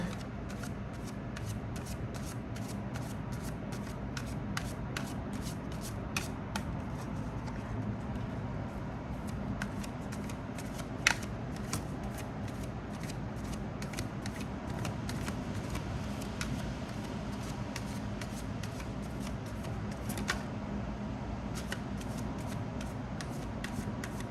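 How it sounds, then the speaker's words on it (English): Continuous soft riffling of a deck of cards being shuffled, with repeated crisp snaps and slaps over a low background hum, no voices. "I put a little bit more of a stretch onto my deck shuffling"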